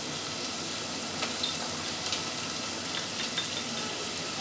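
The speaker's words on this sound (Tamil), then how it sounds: "ஒரு பேன் வச்சுட்டு கொஞ்சமாக குக்கிங் ஆயில் போட்டுட்டு ஒரு பெரிய சைஸ் வெங்காயம், இதை நல்லா வதக்கிப்போம்" A large sliced onion sautés in a little cooking oil in a pan, giving an even, low, continuous sizzle and hiss with a few faint crackles.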